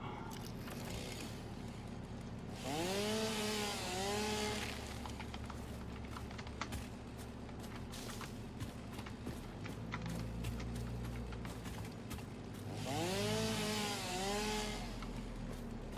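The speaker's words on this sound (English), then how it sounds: "chainsaw out." A chainsaw cutting wood in the video game Satisfactory, with two separate bursts of rising, revving engine whine several seconds apart over a low idle and scattered mechanical clicks.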